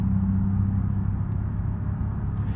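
Steady low engine drone and rumble of an ETK S-series luxury sedan with an N55B30 engine in BeamNG Drive, driven hard with a Logitech wheel, loud and continuous throughout without clear separate pops.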